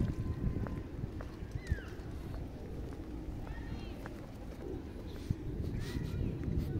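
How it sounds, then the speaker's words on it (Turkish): Pigeons coo softly amid a busy outdoor bustle at a church in Almaty, Kazakhstan, with faint chirps and a few sharp taps scattered through the background. "Güvercin dolu bura."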